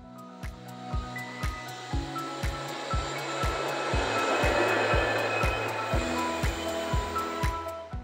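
The Wuppertal Schwebebahn suspension railway runs along its overhead track with a steady rumbling hum, punctuated by regular rhythmic clacks as the wheels pass rail joints, heard from inside the car.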